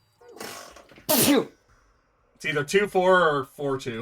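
A person sneezes once, a sharp breathy burst preceded by a quick inhaled catch, close to the microphone, followed after a short silence by a person speaking.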